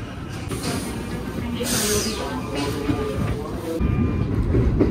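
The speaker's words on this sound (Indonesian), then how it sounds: "ini sekarang KRL yang aku naiki persiapan masuk stasiun Tanjung Priuk" Passenger's view of a KRL electric commuter train in Jakarta slowing into Tanjung Priuk station, a steady rumble of wheels on rails with brief squeals and a louder swell near the end.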